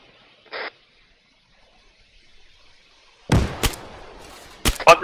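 A frag grenade going off inside a bunker in the video game ARMA 3: after a faint short blip and a long quiet stretch, a sudden sharp blast comes, then several more cracking bursts and rumbling debris.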